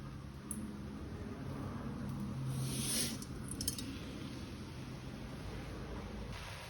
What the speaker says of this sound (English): I am going to go ahead and add the lentils